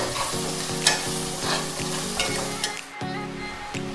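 A mutton biryani mixture with turmeric is stirred and fried in a pan, giving a loud continuous sizzle with rhythmic scraping strokes of a spoon about every half second, near and without speech.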